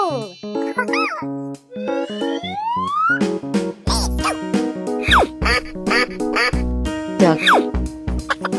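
Cartoon duck quacking over a busy musical backing: several loud quacks with sliding squeaky effects and other animal-like calls, in a bright, busy, layered mix.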